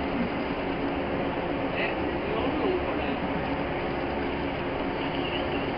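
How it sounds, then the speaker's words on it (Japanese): A Shinkaisoku rapid train pulls into Himeji Station and halts for coupling, giving a steady mid-level rumble of rolling stock and platform ambience that holds evenly throughout, with no speech. "一旦止まりますが連結作業ため再度動きます"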